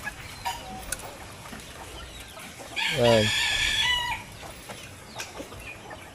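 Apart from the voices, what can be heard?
hungry chickens clucking while being fed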